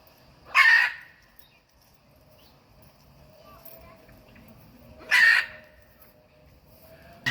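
Large macaws in an aviary enclosure let out two loud, harsh squawks several seconds apart, each brief and sharp, with quiet background in between.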